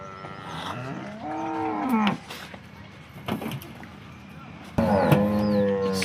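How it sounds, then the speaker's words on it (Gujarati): Cows on a farm, four kept by a single owner, low drawn-out moos rising and falling, with two or three calls close by and a short thump between them. "ચાર ગાયો એક જ ધણીએ રાખી છે।"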